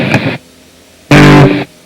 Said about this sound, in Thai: ก็จะเป็นพวกเสียงแตกข้างล่าง